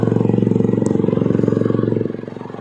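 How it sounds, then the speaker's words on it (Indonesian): Loud, close motorcycle exhaust with a rapid, pulsing idle rumble that drops slightly in level toward the end, heard alone without talk. "ini motor knalpotnya kencang sekali guys."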